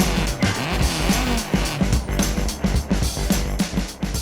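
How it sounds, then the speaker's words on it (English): A Subaru Impreza WRC rally car with a flat-four 2-litre turbocharged engine and four-wheel drive in Gran Turismo 7, its engine droning and revving in rhythmic pulses close up, with tyre noise, and no talk. "This car is powered by the unique sounding flat 4 2-litre turbocharged engine"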